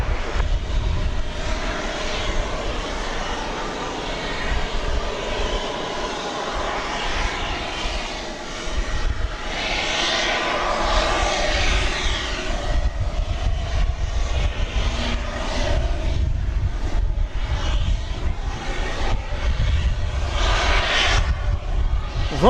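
A Volaris Airbus A321neo jet arriving from Mexico City at Dallas Fort Worth airport, its engine roar steady and loud throughout with broadband rushing noise, no talk.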